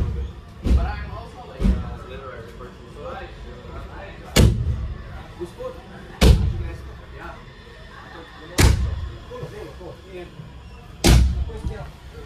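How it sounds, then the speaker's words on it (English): Six heavy train door slams ring out one after another at uneven intervals, loud and echoing, with quieter background noise between them. "He has to close all the doors"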